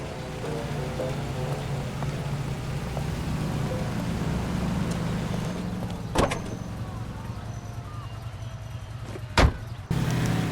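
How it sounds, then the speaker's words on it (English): Cars driving in the video game L.A. Noire: a steady engine and road rumble with rain-like hiss, moderately loud and continuous, broken by two sharp clunks near the end. "We're on the move again, Cole. After her. Don't lose that cab."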